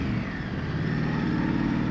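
An Indian Scout Rogue motorcycle's exhaust gives a steady rumbling engine drone throughout, a low continuous note without clear revving or change in pitch.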